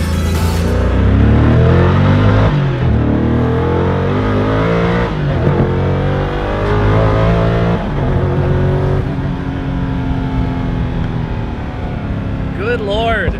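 The world's fastest car, a single-clutch machine, accelerates hard with a loud, sustained engine roar through rising and shifting gears, with people talking excitedly over it.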